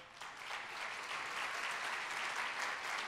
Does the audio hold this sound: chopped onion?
no